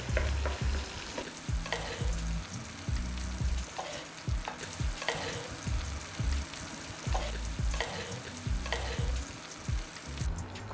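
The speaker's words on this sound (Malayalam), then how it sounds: "ഈ കൊഞ്ചിനെ മറ്റൊരു ബൗളിലേക്ക് നമുക്ക് കോരി മാറ്റാം" Prawns sizzling in hot frying oil as a scoop repeatedly stirs and lifts them out into another bowl; steady close crackle with regular scraping strokes about every second, no voices.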